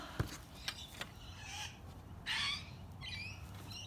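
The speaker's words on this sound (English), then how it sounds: "The birds are making their noise." Several bird calls ring out at a moderate distance, scattered short chirps and a louder harsh squawk, over faint outdoor background noise.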